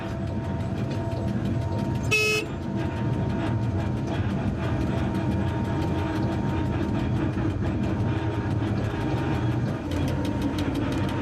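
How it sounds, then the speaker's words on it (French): A French SNCF CC 6500 electric locomotive running on a single track produces a steady, loud rolling rumble and rattle throughout, with a brief tonal horn-like toot near the start. "Depuis la bifure de Divača, nous circulons sur une voie unique à commande centralisée."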